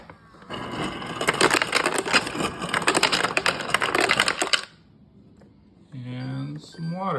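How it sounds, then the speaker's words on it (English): Ice cubes from an LG refrigerator's door dispenser clatter and crunch loudly into a cup for several seconds, then stop abruptly, followed by a short spoken remark. "Let's get some ice."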